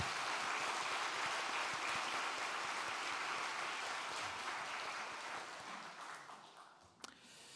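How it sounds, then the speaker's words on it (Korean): A church congregation applauds graduates of discipleship and ministry training classes, steady broad clapping from many hands that fades over the final seconds, with a sharp knock near the end. "우리 다시 한번 박수로 축하하고 격려해 주실까요?"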